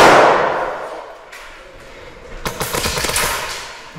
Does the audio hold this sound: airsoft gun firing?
yes